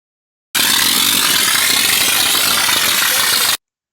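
A small 110-volt electric air compressor running on a mortar sprayer job, a loud, harsh, steady mechanical roar that starts abruptly after half a second, holds for about three seconds, then cuts off cleanly.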